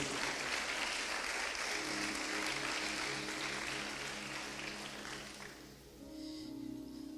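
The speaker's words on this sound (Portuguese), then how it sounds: "a igreja pode tomar assento dando um aplauso para ele" A church congregation applauds in a dense, steady wash of clapping that tapers off toward the end, with a low hum underneath.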